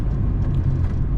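A V6-swapped Acura Integra roars under load, a dense low-pitched engine rumble with induction noise, loud and continuous throughout with no talk.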